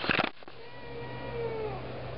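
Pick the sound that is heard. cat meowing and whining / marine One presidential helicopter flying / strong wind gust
cat meowing and whining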